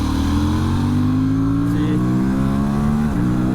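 A 2024 Aprilia RS 457 on a track pulls hard in third gear, its engine note rising steadily and loud close up, then dipping briefly near the end as the revs shift.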